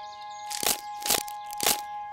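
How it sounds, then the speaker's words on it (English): Crunchy crackers snapped apart three times in an animated children's cartoon, each a sharp, crisp crunch spaced about half a second apart, close and clear against quiet background. "But we're just breaking crackers. Crunchy crackers."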